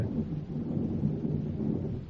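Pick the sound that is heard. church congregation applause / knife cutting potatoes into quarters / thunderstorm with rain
thunderstorm with rain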